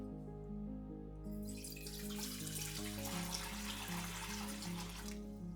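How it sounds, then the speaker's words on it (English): Running tap water pours into a pot being filled for an herbal steam, a steady broadband splash that swells louder after the first second and continues, fairly close, under a low musical drone. "Then I fill the pot almost up to the top with water"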